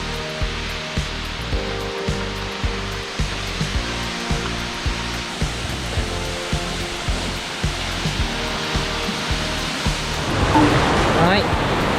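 Aotaki waterfall at Yunoyama Onsen, reached by a steep trail, sends up a steady broadband roar of falling water that fills the whole scene, with a person talking beneath it.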